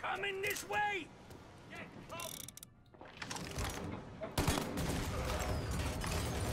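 Bursts of gunfire and mechanical weapon clatter from the video game Mafia: Definitive Edition, sharp reports breaking through game sounds while players talk over them.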